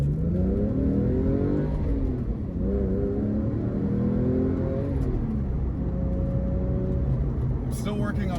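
A ten-year-old Porsche 911 Carrera with a long clutch accelerates through the gears. The engine note climbs, drops at each shift and climbs again, heard from inside the car while a voice talks over it.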